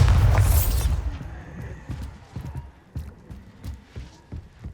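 A Bombarda spell explodes in Hogwarts Legacy with a loud booming blast at the start that fades into scattered thuds and footstep-like knocks.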